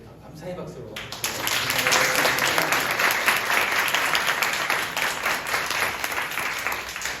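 A church congregation bursts into applause of thanks after a lecture, starting abruptly and holding as a dense, steady wash of clapping from a large room.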